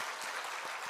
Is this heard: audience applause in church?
yes